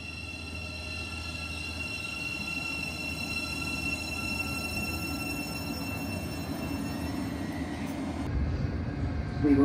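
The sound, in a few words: train running towards Potters Bar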